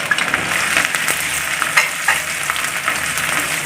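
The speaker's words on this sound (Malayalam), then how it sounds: "നമ്മുടെ വെളിച്ചെണ്ണ ചൂടായിട്ട് അതിലേക്ക് നമുക്ക് ഇഞ്ചി അരിഞ്ഞ് വെച്ചത് ആദ്യം കൊടുക്കാം അതിൻ്റെ കൂടെ തന്നെ വെളുത്തുള്ളി അരിഞ്ഞ് ചേർക്കാം" Chopped ginger and garlic fry in hot coconut oil, a dense, steady, loud sizzle with faint stirring scrapes throughout.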